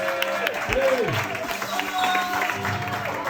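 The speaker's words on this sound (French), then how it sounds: "Applaudissements s'il vous plaît." A live audience at a French game-show-style quiz applauds with a short spell of clapping under background music and voices, fairly close and moderate in level.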